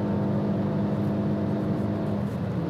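Renault Mégane R.S. hot hatch engine pulling hard at high speed near the rev limiter, a dense, steady droning roar heard from inside the car, loud and continuous without speech.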